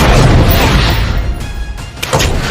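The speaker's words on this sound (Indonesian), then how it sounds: "Ketika mobil box itu pun meledak" A box delivery van hit by explosive sniper rounds blows up in a loud, roaring explosion with a dense rumble that dies down briefly, then flares again with crackling debris.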